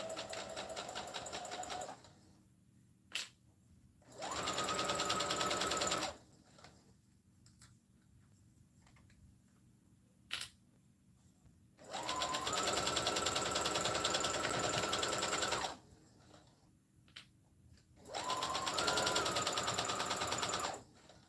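A sewing machine stitches a fabric headband in three sustained runs, each a loud, rapid mechanical whirr, separated by quiet pauses with faint clicks as the work is repositioned.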